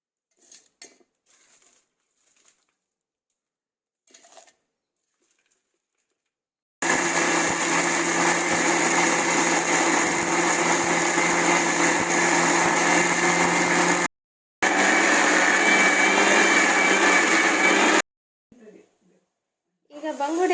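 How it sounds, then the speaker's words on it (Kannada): Mixer grinder grinding roasted onion, black pepper, garlic and turmeric, two loud steady whirring bursts of about seven and four seconds separated by a short pause, with quiet kitchen clinks and talk around them. "ಇದಿಷ್ಟನ್ನು ಹುರಿದಿಟ್ಕೊಂಡು ಮಿಕ್ಸಿಗೆ ಹಾಕಿ ಗ್ರೈಂಡ್ ಮಾಡ್ತೇನೆ."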